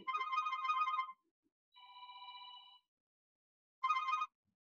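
A phone ringtone plays in short bursts: a warbling ring, a pause, a steady tone, then another brief ring, clear and alone.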